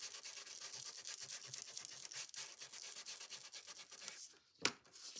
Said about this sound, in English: Get our sander. And just a little bit. Let's rough it up just a little bit.